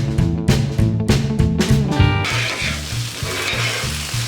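Potatoes and a yellow onion sizzle on a Blackstone griddle, a loud, steady frying hiss overlaid with music that has a rhythmic beat, with no talking.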